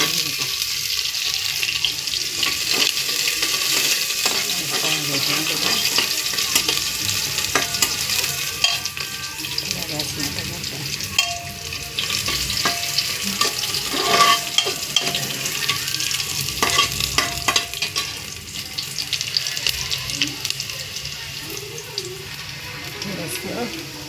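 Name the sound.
onions frying and being stirred in a pan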